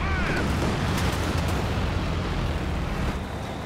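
Close air support strike in Company of Heroes 2, a World War II strategy battle, as a loud, continuous rumbling barrage of explosions with a few sharp cracks near the start, fading slightly toward the end.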